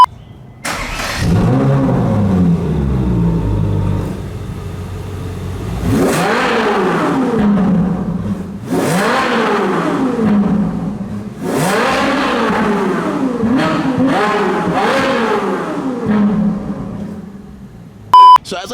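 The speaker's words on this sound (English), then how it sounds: "I love the sound of exhaust notes, so let's go ahead and listen to this crazy car." A Ferrari 458 Spider's naturally aspirated V8 roars loudly in repeated bursts, each climbing sharply in pitch then falling back to idle, with a brief beep near the end.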